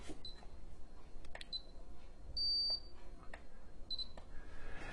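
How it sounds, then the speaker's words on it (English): Short high electronic beeps from a Futaba 4PV surface radio transmitter sound at intervals, each brief, with a longer tone in the middle, close and clear over faint clicks and quiet background. "it will flash and you'll hear it beeping"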